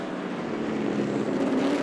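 Vintage race cars roar around Virginia International Raceway, a steady, dense engine rumble heard briefly from a high vantage point above the track.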